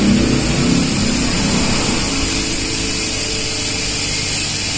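A copy cam machine grinds a stock Vario 150 camshaft, a steady loud mechanical whir and hum that runs continuously without pause, with no voices over it.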